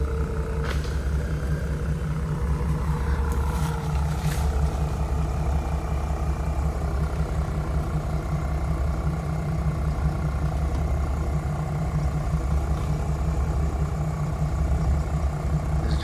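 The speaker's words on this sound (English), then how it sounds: "We're pulling the truck." An XBULL winch hauls a truck through woods, giving a steady, continuous mechanical drone and low rumble at moderate distance, with a few faint sharp knocks early on.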